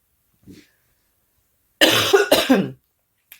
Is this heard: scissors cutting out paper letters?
no